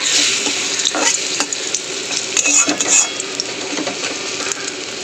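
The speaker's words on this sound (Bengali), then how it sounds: "চলো বড়াটা ভেজে আগে তুলে নিই" Chana dal fritters fry in hot oil, giving a loud, continuous crackling sizzle with scattered clinks and scrapes of a utensil against the pan.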